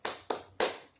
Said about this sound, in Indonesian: di sini Ibu mengajak anak-anak sekalian untuk melakukan tepuk semangat